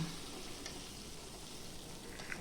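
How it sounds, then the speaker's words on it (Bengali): Chopped onions frying in hot oil tempered with white cumin seeds give a soft, steady sizzling hiss, fairly quiet and continuous throughout, with no voices. "এবার পেঁয়াজ কুচিটাকে দিয়ে দিলাম"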